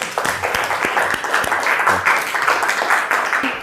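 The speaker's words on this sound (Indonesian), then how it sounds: "kita beri aplaus untuk kelompok yang pertama" A classroom group applauds the first group of presenters with steady, dense hand clapping that carries on throughout, close and moderately loud, with no talk over it.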